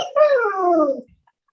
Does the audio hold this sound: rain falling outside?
no